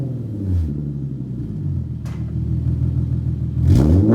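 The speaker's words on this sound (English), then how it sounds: "I still love the sound of this VQ." Infiniti Q50 with the 3.7-litre VQ V6 and a custom exhaust revs up in deep rumbling bursts, with one blip early, a sharper rev near the middle and a louder throttle stab at the end, close by and with no talking.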